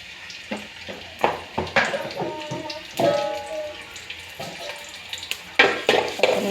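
Chopped onions, a handful, frying in white cooking oil in a kadai, sizzling with intermittent stirring scrapes and clatters over several seconds.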